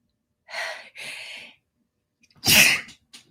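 A person sneezes close and loud, with two sharp breathy intakes building up before a forceful burst, then a brief snort, in an otherwise quiet room.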